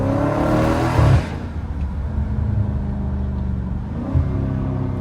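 A Dodge Challenger Scat Pack with the 392 engine accelerates hard in first gear on a late-night drive, a loud rising roar that drops off after a second, then settles into a steady engine drone with a brief swell near the end.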